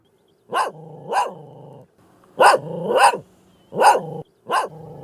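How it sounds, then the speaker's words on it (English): An angry dog barks and snarls in close, loud bursts: a pair of barks, then a longer run of harsh barks joined by growling rumbles between them, with short silent gaps. "That dog is really, really angry."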